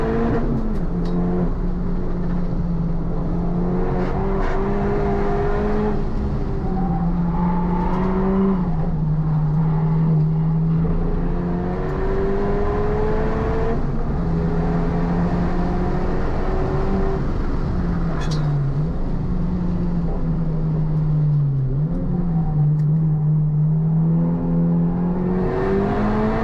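A Honda Civic Type R FK8 with aero mods slides through corners on a race track during an SCCA time trial. Its engine drones loud and close, rising and dipping in pitch through long sustained revs with faint tire noise.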